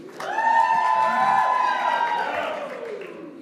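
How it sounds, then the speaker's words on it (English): A commencement audience gives a melodic, sustained cheer, many voices blending into a tuneful, rising-and-falling vocal sound that holds for a few seconds before tapering off. "very melodic cheer"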